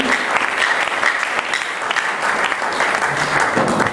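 Church congregation applauding and cheering in praise after a testimony, a dense steady wash of clapping across the whole stretch, loud and close with scattered voices mixed in.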